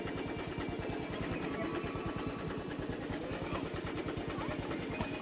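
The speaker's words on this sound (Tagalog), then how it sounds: "Ba't ganito ang tunog ng motor ko?" Motorcycle engine idling, a steady rapid putter of low firing pulses with a slightly rough mechanical rattle, held evenly and fairly faint throughout with no talk over it.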